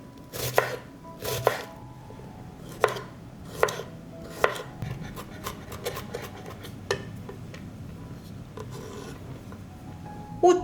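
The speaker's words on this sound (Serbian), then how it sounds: "Dok se pasta kuva, iseckat ću luk i beli luk." A knife chops onion and garlic on a cutting board, with crisp, close, irregular strikes in quick bursts and short pauses between them, and no talking.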